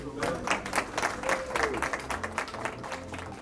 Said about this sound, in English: I think we ought to give Fredy a round of applause